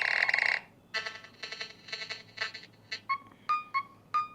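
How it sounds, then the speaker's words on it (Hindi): A Nothing Phone 1 ringtone playing alone: a sharp burst of electronic tone, then a rhythmic run of short synthetic chirps and pulses ending in clipped, pitched beeps, clear and close. "यहाँ पर आपको बहुत सारी रिंगटोन्स दी हैं।"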